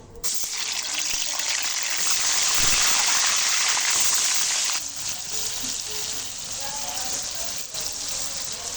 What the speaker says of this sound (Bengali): এবারে আমি চিকেনগুলো ভেজে নেব মাংসগুলো